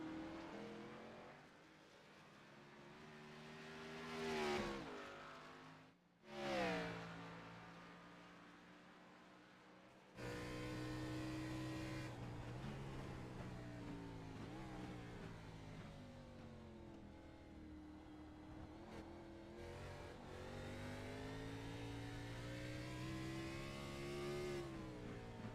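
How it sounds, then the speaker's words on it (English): An Xfinity race car on the Charlotte Motor Speedway road course is held in third gear, its engine droning loudly and continuously with rising and falling pitch, a brief gap and swell near the start, then a sustained roar. "You can hear Hamilton there, pretty much third gear, all the way through the bus stop, down the tiny front stretch, through that section"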